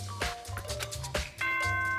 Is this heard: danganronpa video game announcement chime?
yes